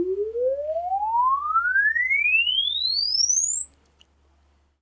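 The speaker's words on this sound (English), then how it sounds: "Next is running a frequency sweep and measuring each speaker individually" A logarithmic sine sweep test tone from a speaker on a hi-fi streaming DAC setup rises steadily from low to very high pitch over about four and a half seconds, alone and at constant loudness, then stops.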